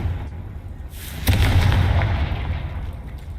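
Confringo spell explosion in the video game Hogwarts Legacy, a loud sudden boom with a crackling blast tail that rolls on and slowly fades, no voices.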